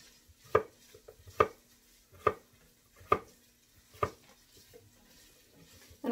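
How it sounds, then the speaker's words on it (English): A knife cuts potatoes on a cutting board for soup, striking five times at an even, unhurried pace, each a sharp close thunk with quiet gaps between. "I'm just going to thinly slice across that."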